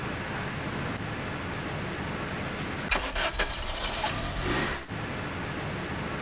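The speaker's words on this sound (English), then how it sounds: "I shall park the car and come back." A parked car's engine idles steadily, then a brief louder burst of engine and mechanical noise rises for a couple of seconds before settling back to the low running hum.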